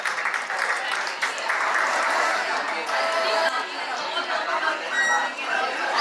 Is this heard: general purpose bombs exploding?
no